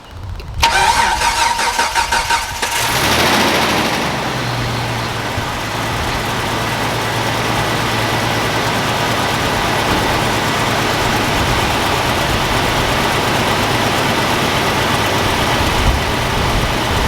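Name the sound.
Jeep crate engine starting and idling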